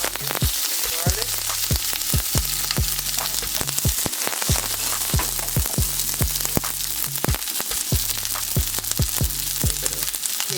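Onions and garlic fry in grapeseed oil, giving a steady, close crackling sizzle with sharp pops spattering through it at irregular moments, with no talking heard.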